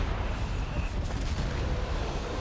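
Mortar and artillery fire in the WWII strategy game Company of Heroes 3, heavy low booms and rumbling blasts layered continuously, with a distinct impact crack near the middle.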